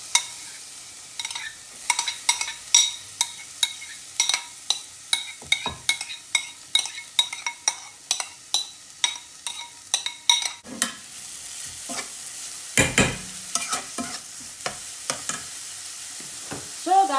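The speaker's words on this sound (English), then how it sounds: "I'm going to use my cooking pot and I'm just going to add my carrot that I just grated." Grated carrot is stirred in a cooking pot over a faint sizzle, with rhythmic scraping strokes repeating about once a second, then a few louder clunks of the pot and spoon near the end.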